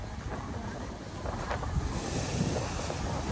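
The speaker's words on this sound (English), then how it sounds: "We have been seeing this high surf all day with this wind." Wind and high surf at sea, heard from a cruise ship: a steady, fairly faint wash of wind buffeting and rushing water, with no voices.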